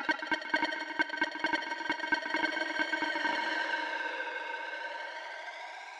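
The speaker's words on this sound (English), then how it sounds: "Loads of echo and delay and stuff." Electronic dance track drenched in echo and delay: a bright, loud synth pattern pulses in quick repeats, then the hits stop and the repeats smear into a sustained, slowly shifting wash that fades gradually.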